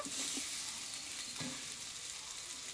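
Pumpkin vine stems fry with potatoes and spices in a pan, with a continuous hissing sizzle and a few soft scraping stirs, close and even, and no talk.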